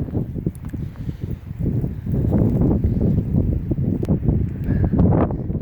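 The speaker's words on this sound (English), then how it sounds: "Ooh, it's windy." Strong wind buffets the microphone on an open farm beside a Massey Ferguson plow and a hay rake, a loud, steady low rumble with gusty surges that grow stronger midway.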